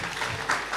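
A conference audience breaks into applause, a short burst of steady, dense clapping from a crowd.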